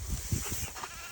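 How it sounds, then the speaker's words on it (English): A sheep caught on a water hose in a farm pasture lets out short, wavering bleats that are close and moderately loud, with faint outdoor noise behind them. "One of the sheep is caught on this water hose"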